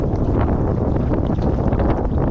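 Strong wind of about 20 miles per hour roars steadily into the microphone, a dense continuous rumble with constant buffeting and no pauses.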